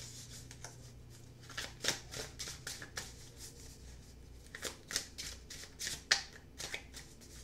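Thelema tarot cards are shuffled by hand in repeated quick riffling bursts, crisp close-up card flutters coming in uneven clusters throughout with no talk.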